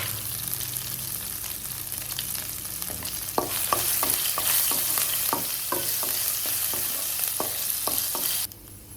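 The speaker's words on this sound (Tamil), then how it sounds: "ஓரளவு கறி லீஃப், வரமிளகா, பச்சை மிளகாலாம் கொஞ்சம் ஃப்ரை ஆகிடுச்சு" Ginger, curry leaves, dried red chillies and green chillies fry in hot oil while being stirred, a steady close sizzle broken by a run of sharp spatula scrapes and taps against the pan; no talking.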